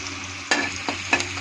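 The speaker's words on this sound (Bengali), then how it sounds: "এর মধ্যে জিরা ছেড়ে দেবো," Cumin seeds fry in hot oil in a pan with a continuous soft sizzle, punctuated by three sharp stirring scrapes of a spoon.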